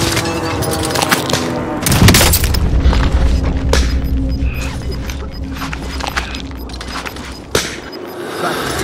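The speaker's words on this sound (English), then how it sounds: "Enemy precision airstrike." Enemy precision airstrike in the Warzone video game on Caldera: a series of heavy booming explosions with sharp cracks and rumbling debris, loud and close, one big blast early and another sharp hit near the end.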